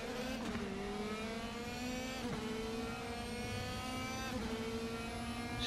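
A race car engine in the racing game RaceRoom revs hard, its steady high drone shifting pitch as it climbs through gears, with brief dips at each shift, continuous and even throughout.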